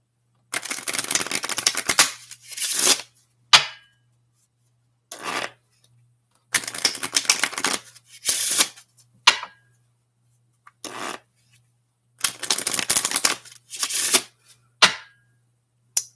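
A deck of playing cards is shuffled repeatedly near the mic, with quick riffling bursts and rapid flicking patter, separated by short pauses, and a few sharp single card snaps in between.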